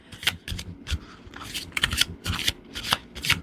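Tarot cards shuffled by hand in quick riffling bursts, crisp and close, several rapid flurries with short pauses between them.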